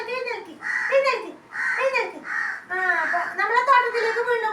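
Crows cawing outdoors in the morning near a home garden: several loud, close caws in repeated bursts, each harsh call rising and falling, with short pauses between rounds.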